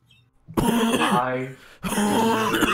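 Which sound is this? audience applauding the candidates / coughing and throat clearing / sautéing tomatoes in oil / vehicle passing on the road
coughing and throat clearing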